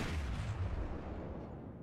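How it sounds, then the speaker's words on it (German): A deep, heavy boom of big naval guns firing from the battleship Warspite in World of Warships, loud and rumbling, then fading into a long low tail. "So, die ersten Schüsse gehen raus,"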